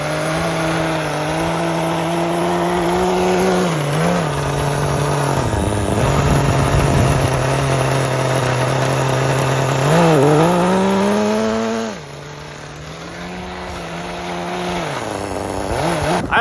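HPI Super Nitro RS4 RC nitro car engine buzzing at high pitch while driving, with rising and falling revs and repeated throttle blips, steady and fairly close throughout.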